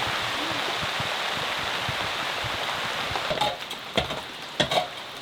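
Steady rain pours down at an off-grid homestead during a roof project, a dense, continuous hiss with a few sharper knocks and drips standing out near the end.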